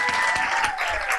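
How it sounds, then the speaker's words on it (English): Conference audience giving a round of applause for a speaker's introduction, a short dense burst of crowd clapping with a faint tonal hum underneath. "I'll give them a round of applause."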